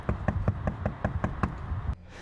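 Knocking on a door at a business in an industrial center: about nine firm, evenly paced knocks, close and solid, ending with a sharper thud before faint background hum.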